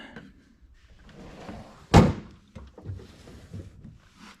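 A tool box drawer being worked, with soft shuffling and rattling around one loud, sharp thunk as it shuts, followed by a few lighter knocks nearby.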